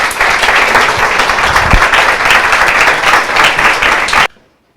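An audience at a lecture breaks into steady, dense applause to welcome speaker Manuel Berrocal, a full, close crowd sound that holds evenly before cutting off abruptly near the end.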